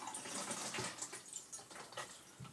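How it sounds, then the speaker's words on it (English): Stop bath is poured into a black-and-white film developing tank, a continuous soft splashing pour of liquid with no talking. "pour the stop bath in, 500 mils"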